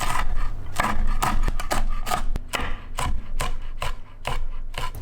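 Fresh chilies being chopped into thin pieces on a cutting board, a steady run of crisp knife taps close by, some quick and clustered, others spaced out, with no talking.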